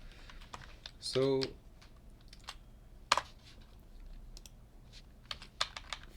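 Close, light clicking of computer keyboard keys as code is typed in short irregular runs, with a voice talking quietly alongside.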